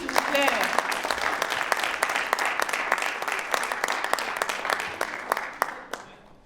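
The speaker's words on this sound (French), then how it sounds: "On applaudit s'il vous plaît" Audience at a French-language spelling bee award ceremony applauds a second-prize winner with brisk, full clapping that continues steadily, then thins into a few scattered claps and stops near the end.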